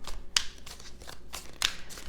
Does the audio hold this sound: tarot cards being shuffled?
yes